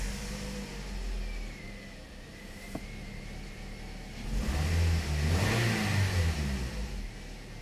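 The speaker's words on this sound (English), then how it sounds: "So now let's start the engine." A 2009 Toyota Corolla engine with a cylinder 2 misfire and power loss cranks and catches, then idles before revving up and falling back in a broad rising and falling sweep. The sound is close and steady, with no voices.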